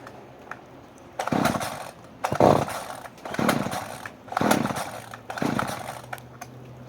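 A small chainsaw with no primer, on choke only, is pulled over from cold in about five rough rattling bursts, each a second or so with quiet gaps between, close by and never catching.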